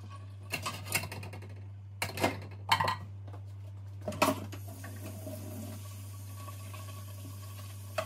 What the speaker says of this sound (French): Je commençais à faire la vaisselle